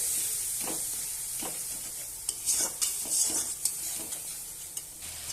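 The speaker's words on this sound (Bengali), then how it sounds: "ভালোভাবে কষাবো মশলাটাকে।" Spice paste for a Bengali fish curry with okra and potato frying in a pan while being stirred: a steady sizzle under scattered scrapes and clinks of the spoon against the pan, close up, with no voices.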